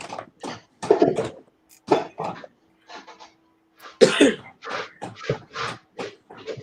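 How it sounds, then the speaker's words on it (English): Someone coughs several times in short bursts close to the mic, with throat clearing mixed in and a few loud hacking coughs near the end, in a workshop setting. "Oh, I hear somebody coughing in the background."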